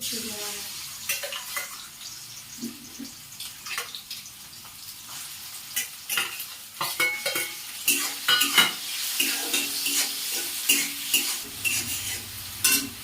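Shrimp marinated with salt and turmeric frying in a pan, a hissing sizzle with irregular clatters and stirring scrapes, growing busier toward the end.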